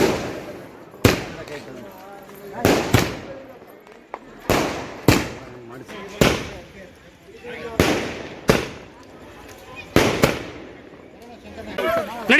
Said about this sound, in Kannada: ಮಾವ ಪಟಾಕಿ ತಂದು ಇಟ್ಬಿಟ್ಟು ಹೊಡಿರೋ ಪಟಾಕಿನ ಅಂತ ಅಂದರು